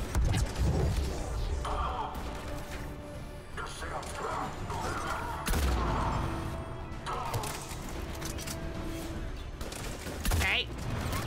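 Bursts of rapid gunfire and clattering impacts during a firefight in the video game Mass Effect 3, loud volleys rising and falling among crashes and mechanical clanks.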